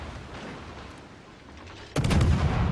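Warship guns fire in the World of Warships naval battle game: a soft rumbling background is broken by a sudden heavy boom whose loud, rumbling roar carries to the end.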